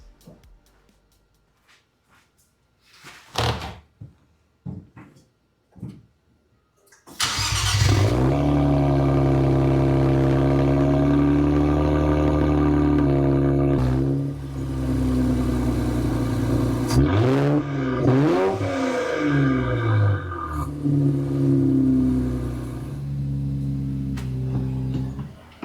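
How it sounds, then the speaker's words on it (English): A 2025 Nissan Z fitted with a new Helmholtz exhaust cranks over, fires and settles into a loud, steady idle, then gets several sharp revs that rise and fall before it drops back to a rumbling idle. "let's fire it up and see how it sounds"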